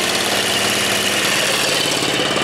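An ASP 5cc four-stroke engine on a model airplane runs steadily and loudly with a dense, buzzing drone close by, and no one talks over it.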